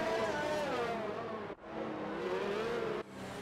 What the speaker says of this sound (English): But you can hear our car now.